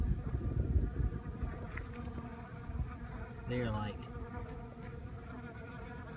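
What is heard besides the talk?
feral honeybees buzzing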